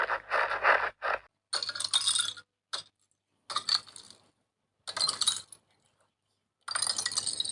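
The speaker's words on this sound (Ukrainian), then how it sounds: "бо рульки падають і розбиваються." Icicles falling and shattering in a winter sound-guessing game, heard as several separate bursts of bright crashing and tinkling, each a second or so long with silent gaps between, loud and close.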